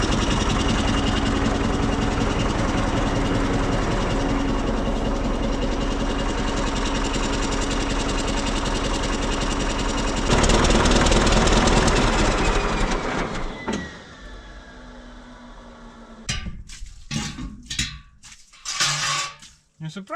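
A bulldozer's pony motor runs in a loud, steady, rough drone for about thirteen seconds, then cuts out, leaving scattered clanks and knocks near the machine.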